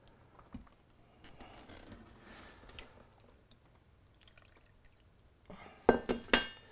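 Molten wax poured into a mold, a quiet, faint trickle with soft splashes, ending in a few brighter, louder glassy clinks and pours near the close.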